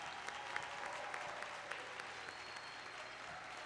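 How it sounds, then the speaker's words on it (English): A crowd at a 2021 Jefferson College commencement applauds the graduating class, a steady, fairly distant wash of clapping from a large audience sustained throughout. "Let's have one more round of applause for the graduating class of"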